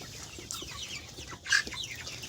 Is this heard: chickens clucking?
yes